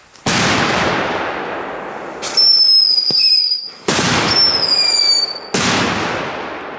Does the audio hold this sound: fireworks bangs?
yes